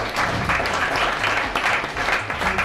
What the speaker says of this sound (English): So I think for that you deserve a round of applause.